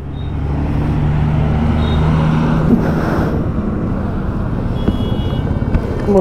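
Traffic stalled at a signal on Mumbai Road during a monsoon motorcycle ride gives a steady broadband rumble of idling engines and road noise, continuous and fairly loud, with no clear speech.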